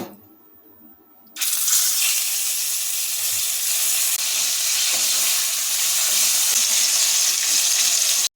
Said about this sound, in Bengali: এইভাবে কড়াইতে আমরা বাকি মাছগুলোকেও ভেজে নেব